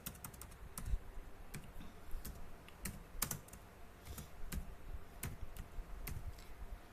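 Keys on a computer keyboard tapped while typing in MS Word, a quiet, irregular run of close clicks with small pauses, alone without talk.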